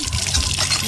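Water gushes from a farm pump in a rural provincial field, a short steady splashing flow heard close and fairly loud with no talking over it.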